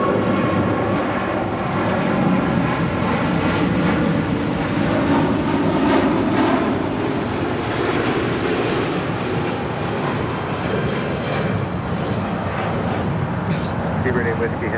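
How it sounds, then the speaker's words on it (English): A Speedbird heavy jet airliner departing Los Angeles International for London Heathrow, a continuous loud engine rumble rolling steadily throughout, with a commentator and radio chatter talking over it. "It's Speedbird 8 Whiskey Heavy departing to London Heathrow"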